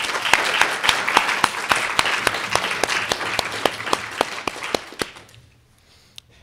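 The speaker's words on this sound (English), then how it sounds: "Let's give him a round of applause." Audience applause at a 2014 student government candidate forum, with prominent rhythmic clapping in a steady beat that softens and stops, leaving near silence with a final lone clap.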